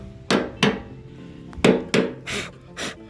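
A rusted fuel pump on a 1992-1997 Ford F150 pickup is struck with a hammer in sharp metallic blows, two close together, then two more, then softer taps.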